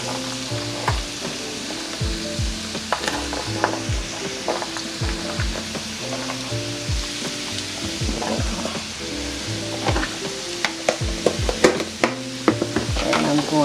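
Celery and onions sizzle steadily in melted butter in a pan, with frequent scrapes and knocks of a utensil stirring them; close and continuous, no voices.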